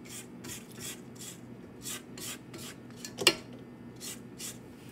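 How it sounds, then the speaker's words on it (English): A spatula scrapes egg mixture down the sides of a mixing bowl in repeated soft, rhythmic rasping strokes, close by, with one sharper tap against the bowl midway. "let me just scrape down the sides and make sure all of this egg mixture is in here"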